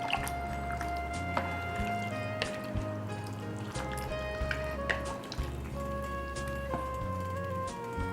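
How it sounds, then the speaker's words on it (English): Meat mixture with added cooking wine being stirred in a pot for shepherd's pie, giving soft wet squishing and dripping sounds with occasional utensil clinks under steady low background hum, no talking. "So we'll add this to the meat. And then we'll give it a quick stir."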